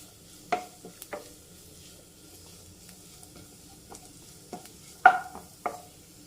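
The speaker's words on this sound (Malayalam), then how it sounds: "ഒന്ന് സോട്ട് ചെയ്ത് കൊടുക്കാം അതിൻ്റെ ആ പച്ചമണമൊക്കെ ഒന്ന് പോയിക്കോട്ടെ" Ground black pepper and other ingredients are sautéed in a pan, heard as a soft low sizzle broken by several sharp spoon-and-pan clinks spaced irregularly, close by with no talking.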